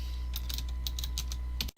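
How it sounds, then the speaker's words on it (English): Code typed on a computer keyboard in a quick run of crisp keystrokes, close and moderately loud over a low steady hum, ending with a brief cutout. "so we're going to type"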